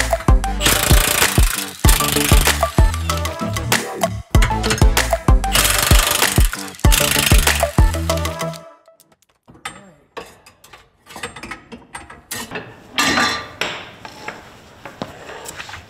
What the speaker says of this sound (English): I'm gonna be switching out to a 15mm socket attached to an extension to remove the 4 bolts securing the sway bar to the frame